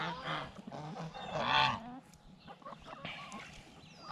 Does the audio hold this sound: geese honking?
yes